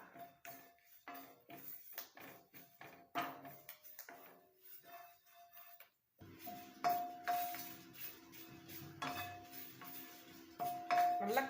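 A ladle stirs ingredients dry-roasting in a pan until they turn black, producing irregular metallic scrapes and clinks, quiet at first, then a brief pause and a steadier run of scraping, with no voices.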